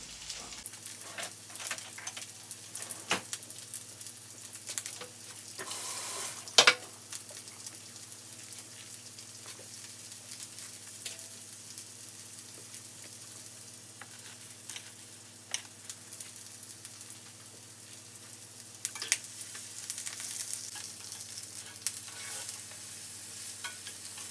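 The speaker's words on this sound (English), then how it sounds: "We're just gonna saute the onion, cut your fire down." Onions and green onions sauté in a pan over lowered heat, giving a faint, steady sizzle with occasional soft stirring scrapes and clicks throughout.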